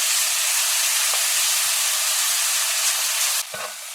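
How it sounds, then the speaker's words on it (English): Curry paste and onions fry in hot oil, a steady loud sizzle and hiss that runs without a break, then a brief clatter of stirring at the end. "So your curry paste you want to fry for approximately 2 minutes."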